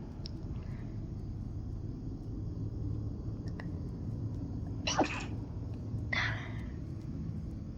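A person indoors lets out a sudden sharp sneeze, followed about a second later by a second, softer burst, both sounding over a faint low room hum.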